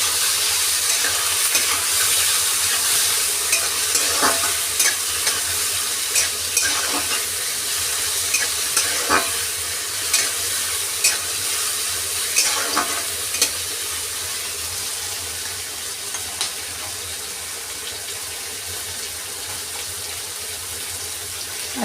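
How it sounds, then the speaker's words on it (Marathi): Chopped brinjal sautéing in a pan for masale bhat, a steady sizzle with repeated scraping stir strokes at a close distance and no talking. "जे वांग चिरून घेतले ते यामध्ये टाकणार आहे. आणि ह्याला छान असं आपण परतून घेऊया."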